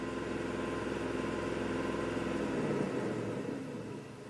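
A 2009 Ford F150 V8 runs at raised revs, a steady, faint mechanical hum with a low rumble that eases slightly near the end, heard alone without talk.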